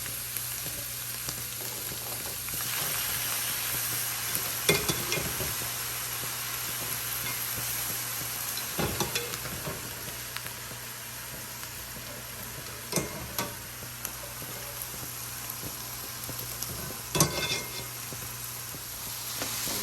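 Chow mein noodles stir-fry in a hot pan with a steady close sizzle, broken every few seconds by the clatter of the utensil tossing them.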